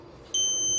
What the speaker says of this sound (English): Wrong password. Alarm is on.